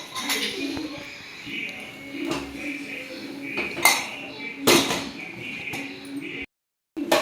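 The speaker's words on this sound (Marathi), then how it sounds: "आणि कुकर बंद करते।" Metal pots and a pressure cooker lid clink and clank in a home kitchen while mutton korma cooks, with several sharp knocks spaced among quieter handling sounds.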